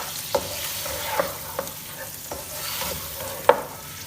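Lamb karahi is stir-fried in a pan, with a soft continuous sizzle broken by several scraping stirs of a utensil against the metal, one louder clack near the end, and no talking.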